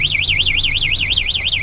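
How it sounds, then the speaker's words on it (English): A BMS Palazzo 150cc scooter's alarm wails in a steady, rapid up-and-down siren warble, loud and close, sounding continuously with no talk. "You get the alarm."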